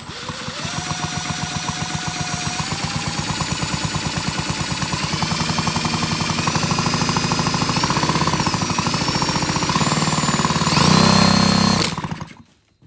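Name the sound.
Husqvarna 125B leaf blower engine being spun over slowly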